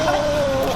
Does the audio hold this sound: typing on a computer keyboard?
no